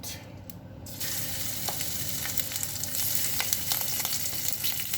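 Large shrimp sizzle in a pan over medium heat for a shrimp and sausage alfredo. The frying rises to a fuller hiss after a quieter opening second, with scattered pops and crackles throughout and no voices.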